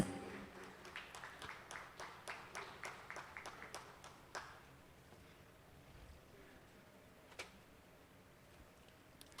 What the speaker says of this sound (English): A huge round of applause for all the dignitaries on the dais